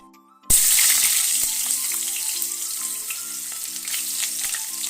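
Potato pieces roast one by one in a hot pan: a sudden loud sizzle bursts in and then settles into a steady, dense frying crackle, with a few faint clinks underneath.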